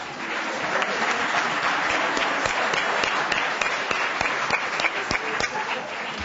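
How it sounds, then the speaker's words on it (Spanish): A conference audience at a medical congress in Bilbao gives sustained applause after a raffle number is drawn, a dense wash of many hands clapping evenly throughout, loud and full with no talk over it. "Bien, un aplauso."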